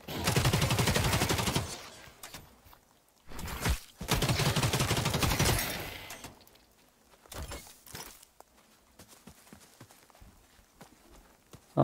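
Gunfire in the video game Cycle Frontier comes as long, dense bursts of rapid shots, then a sharp isolated burst, then quieter scattered pops and footstep-like taps, fairly distant and without talk.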